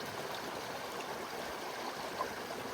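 Water trickling and streaming steadily as it is pushed through a camping water filter to rinse it beside an alpine lake, a continuous soft wash with no talk.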